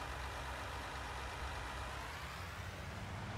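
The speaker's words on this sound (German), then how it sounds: "Steigen jetzt hier einmal ein und klappen jetzt hier erstmal alles zu. Starten den Motor auch gleich." Cotton harvester engine idling in Farming Simulator 19, a steady low diesel rumble with a constant hum, close and even throughout, no talking.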